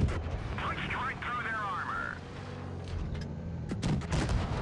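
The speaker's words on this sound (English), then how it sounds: "T-44 shot misses, and I get away lucky to just take one shot." Tank cannon shots from the World of Tanks Blitz video game, including a T-44, ring out amid battle effects, with a couple of sharp booming blasts landing near the end over steady game background noise.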